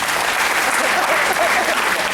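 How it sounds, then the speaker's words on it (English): Concert audience clapping hands together in a dense, steady round of applause at a family singalong show, loud and continuous with no talk over it. "How many of you don't know how to do this? Clap your hands."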